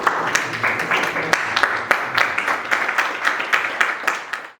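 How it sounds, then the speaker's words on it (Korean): A seminar audience welcomes a speaker with steady applause, many hands clapping in a lively, slightly uneven patter that continues throughout and fades at the end. "모두 박수로 환영해 주시기 바랍니다."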